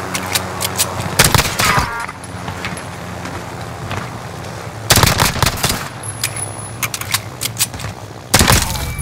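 Gunfire in Call of Duty Modern Warfare, loud automatic bursts at close range in three clusters separated by quieter stretches of in-game ambience and rumble.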